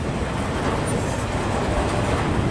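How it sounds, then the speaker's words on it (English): A long Norfolk Southern freight train rolls past at Fostoria, Ohio, with a continuous loud, close rumble and clatter of railcars and no break in the sound. "Yeah, that's a long train."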